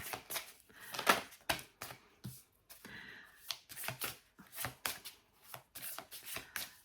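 Tarot cards being shuffled for a reading, a close run of crisp riffling and slapping bursts in an irregular rhythm, fairly quiet.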